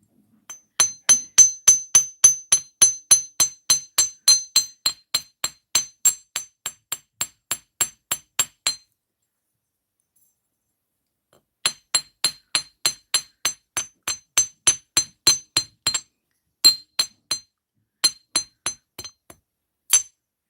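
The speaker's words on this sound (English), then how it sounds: "sorry if I'm blasting people's ears out with my pounding." A hammer pounds metal to shape hammered earrings, giving rapid runs of bright, ringing, clinking blows. The first burst is long, a pause follows, then more strike runs come, close and loud.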